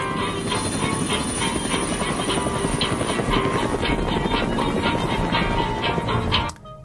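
Helicopter in a scene from a TV show, a loud steady rotor chop with engine roar filling the whole stretch close by, cutting off abruptly near the end, with no talking.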